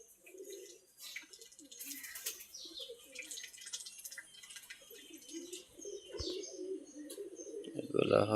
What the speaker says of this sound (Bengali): এগুলো হলো দেশি হাঁস।